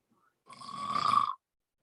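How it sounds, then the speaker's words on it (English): A man gives a single short, raspy snore-like snort lasting under a second, alone and close, with silence around it. "I'm just kind of snoring a little bit"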